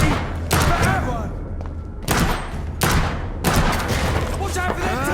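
A volley of gunfire in the video game Vampyr comes as several loud, close bursts of shots separated by brief gaps, with a voice talking between them.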